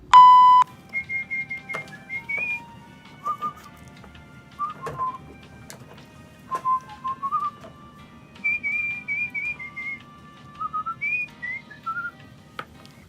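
A person whistles a wandering tune in short phrases with pauses between them, clear and fairly close, over a low steady background hum.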